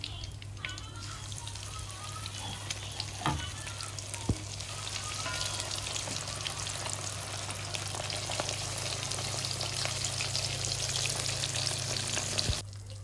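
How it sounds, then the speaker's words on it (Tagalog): Fish fries in hot oil in a pan, a steady crackling sizzle with scattered pops and a low background hum running beneath it. "isunod na din po natin yung ating second batch ng ating isda. So ipiprito lang din natin siya."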